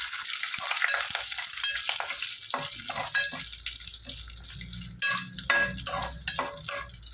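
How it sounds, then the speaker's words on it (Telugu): Curry leaves and dried red chillies crackle and sizzle loudly in hot oil for a curd chutney, a steady dense frying hiss with scattered pops and the occasional stir, no talking. "కొద్దిగంత కరివేపాకు ఇవి చక్కగా ఫ్రై చేస్తున్నాం"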